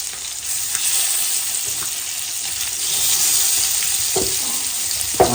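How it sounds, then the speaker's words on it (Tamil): Fish fries in a pan at a village Pongal gathering, producing a steady sizzle with a few soft clinks and stirring knocks near the end and no speech. "இந்த சைடு மீன் வறுத்துட்டு இருக்காரு"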